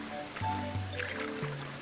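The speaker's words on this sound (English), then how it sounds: "I'm landing in the water" Mario drops into water in Super Mario Sunshine, a short watery splash and trickle set against the game's music.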